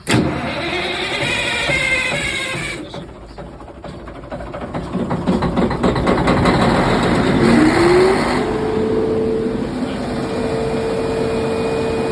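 A CAT C15 diesel engine with a no-start fault cranks loudly and turns over in a rhythmic churn. It then rises into a sustained rumbling run with a climbing whine, close by, with no talking.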